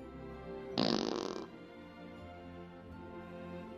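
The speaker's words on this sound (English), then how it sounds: "you want to hear a real live-action fart instead of one of those fake cartoony ones?" A loud, wet fart bursts out for under a second in a cartoon scene, standing out clearly against low background voices and room tone before fading away.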